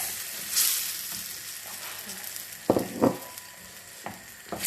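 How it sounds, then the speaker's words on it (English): Butter beans tipped into a Jamaican ital curry pot on medium heat and stirred, with a steady sizzle underneath and a few sharp spoon scrapes and knocks against the pot, close and clear, no talking. "So now I'm gonna go ahead and I'm gonna add my butter beans"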